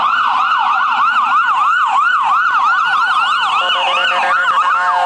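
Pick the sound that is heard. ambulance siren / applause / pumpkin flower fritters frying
ambulance siren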